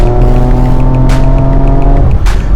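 A Porsche Macan GTS engine roars loudly and close up under hard acceleration, its drone rising steadily. Two sharp, abrupt shift breaks cut through it about a second apart, each with a quick burst of noise.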